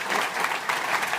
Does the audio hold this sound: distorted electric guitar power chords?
no